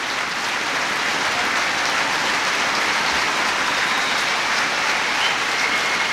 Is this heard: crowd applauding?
yes